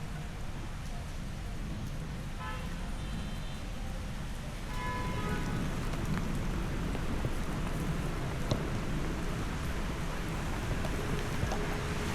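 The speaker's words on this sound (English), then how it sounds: "Once the rain slowed down," Steady rain patters and hisses throughout, growing slightly heavier midway, with faint tonal sounds briefly in the background.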